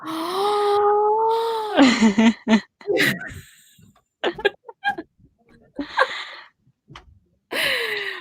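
A human voice imitating a cat going wild, with drawn-out yowling meows, gasping, sneezy bursts and short cries broken by pauses, close and loud.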